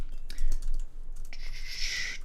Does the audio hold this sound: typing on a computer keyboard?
yes